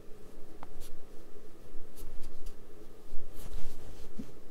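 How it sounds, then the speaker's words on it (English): Paper being handled and refolded for an accordion-spine book: soft rustles, light scrapes and a few crisp crinkles close up, arriving in uneven bursts over quiet room noise. "I'm going to adjust the fold"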